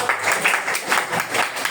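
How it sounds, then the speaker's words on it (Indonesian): Classroom students clapping together on cue, a brisk group applause in pulsing bursts at moderate loudness, with no talk over it. "oke, tepuk tangan"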